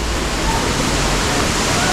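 Heavy rain pours down on a route toward a waterfall in Nepal, a loud, dense, unbroken hiss close by, with a voice briefly over it.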